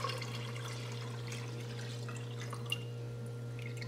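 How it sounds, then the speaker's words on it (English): Water poured into an Instant Pot of soaked beans, a steady faint trickle and splash over a constant low hum, with a small drip near the end. "it's time to add water back into the pot"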